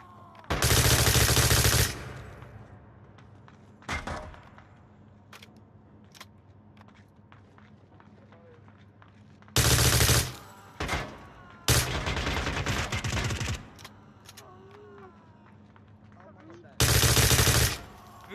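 Gunfire in the VR shooter Onward: several loud, sustained automatic bursts lasting a second or two, spaced across the stretch with single sharp shots in between, and voices talking in the gaps.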